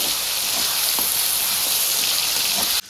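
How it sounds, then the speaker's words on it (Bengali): Potatoes, then tomatoes, frying hard in a pan for a vegetable curry, giving a loud, steady broadband sizzle throughout with no talk, cutting off abruptly at the very end. "চলো দেখো আলু ভাজা হচ্ছে, তারপর এই টমেটো ভাজা হচ্ছে"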